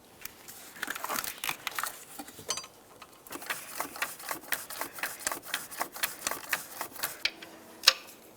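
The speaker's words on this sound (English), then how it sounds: "torque this to 18 foot-pounds as well." A torque wrench tightens an intake bolt on a 2003-2011 Mercury Grand Marquis engine, producing a quick, even series of close ratcheting clicks that ends in a sharper final click.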